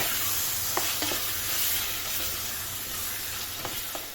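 A garden tomato cooks in a pan, giving a steady close sizzle and hiss with a few light clicks of stirring, and no voices.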